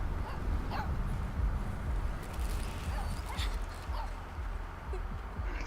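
A dog in the video game Life is Strange 2, letting out several soft whimpers and yips over a steady low background rumble.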